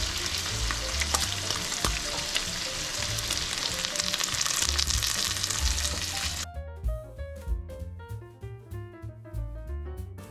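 Bacon and mushrooms fry in rendered bacon fat with a loud, steady crackling sizzle that thins out near the end into sparser pops and spits, close by and with no talk.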